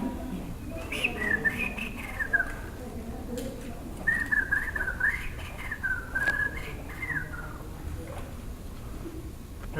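Loud human whistling in two long melodic phrases of rising and falling tones, a signal style once used to call across South American mountains, with a low room murmur beneath.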